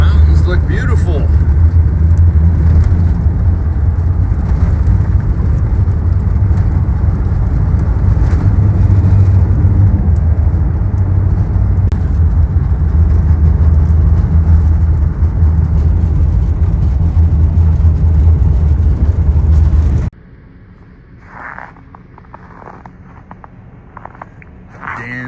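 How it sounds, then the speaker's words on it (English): All-wheel-drive Chevy van fitted with a new aluminum tire carrier, a loud, steady close engine and road rumble that stops abruptly, giving way to quieter ambience with a few faint knocks. "all-wheel drive Chevy. With his new tire carrier on."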